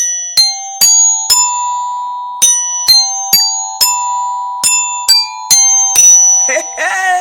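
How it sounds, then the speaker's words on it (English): A chiming ding-dong jingle played on a UK radio show, a series of bright bell-like tones struck in quick rhythmic bursts, ringing on as a sustained chord under a brief voice near the end. "I know you was waiting for the ding dong"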